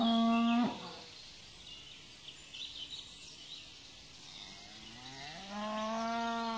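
Cows moo loudly and close by, one long low bellow at the start and another rising one at the end, with faint birdsong and quiet background in between.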